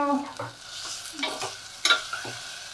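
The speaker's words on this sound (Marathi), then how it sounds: "आता आपण थोड्याशा भाज्याही परतून घ्यायच्यात" Vegetables are stirred in a hot tempering for khichda, scraping and clinking of a spoon over a soft sizzle, with a couple of sharper knocks.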